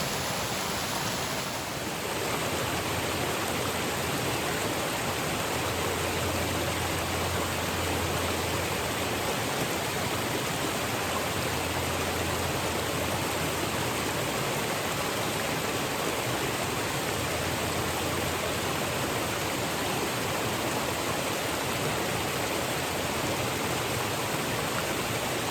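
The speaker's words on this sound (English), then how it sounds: "past a few waterfalls that are nice" Small waterfalls and a stream along Deep Creek trail in the Great Smoky Mountains rush steadily, a continuous close broadband hiss of flowing water with no voices.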